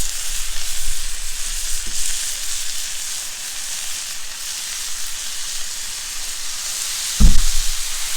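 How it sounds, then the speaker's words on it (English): Bacon strips cook fast on a Blackstone griddle, a loud continuous hissing sizzle, with a brief clatter of a spatula or tool on the flat-top near the end. "We got the bacon on. That bacon's cooking really fast."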